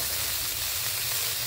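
Cauliflower fries in a pan with a steady, dense sizzle and hiss, continuous and close with no pauses.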